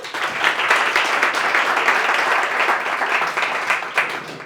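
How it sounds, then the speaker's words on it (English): Audience applause for John Ferris at a leadership talk, a dense, steady wash of many hands clapping close and loud, tapering slightly toward the end. "Please could we get a very warm round of applause for John Ferris."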